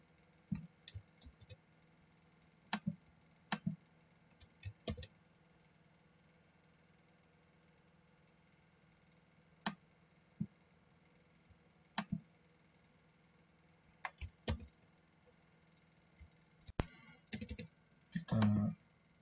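Short scattered bursts of computer keyboard clicks, a few quick keystrokes at a time separated by quiet gaps, close and crisp over a faint low hum, denser near the end.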